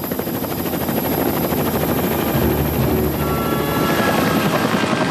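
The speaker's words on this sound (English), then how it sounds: "a helicopter sweeps the waves with searchlights" A helicopter sweeps low over stormy Lake Superior waves during a gale, its rotor throbbing loud and steady throughout, close and continuous with a dense roar of wind and water beneath it.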